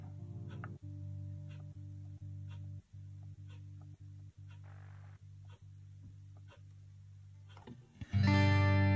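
Electric guitar played through a Zoom G1xOn pedal with reverb, a sustained chord rung out repeatedly with regular muted ticks between strums, ending in a sudden loud bright burst near the end; no one talks.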